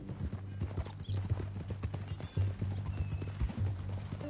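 Steady clip-clop of horse hooves walking at an even pace in the video game Red Dead Redemption 2, close and clear, with a low rumble of movement underneath.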